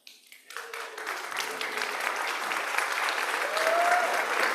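Applause for board volunteers at a Flower Communion church service, starting sparse after a brief voice and swelling into sustained, dense clapping from the congregation that grows louder toward the end.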